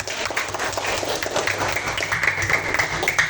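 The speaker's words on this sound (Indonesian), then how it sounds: "Tepuk tangan untuk kita semua dulu." Schoolchildren in a classroom applaud together at the end of a lesson, producing a loud, steady burst of mixed clapping close by that carries on throughout.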